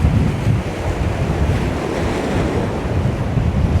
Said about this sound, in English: So the wind was set to decrease this evening, but it's obviously increasing. It's really picking up actually.